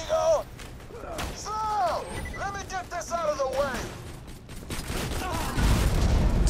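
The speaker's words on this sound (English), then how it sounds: "Hey, autocannon." Bursts of autocannon fire crack out during co-op play of the video game Borderlands 2. The rapid heavy shots mix with explosions and warbling in-game voices.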